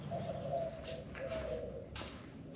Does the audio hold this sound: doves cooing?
yes